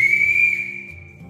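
A single sharp whistle blast signals a bus about to depart for a mountain trip, loud and close, sustained for about half a second before fading out.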